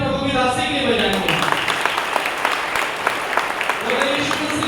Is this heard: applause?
yes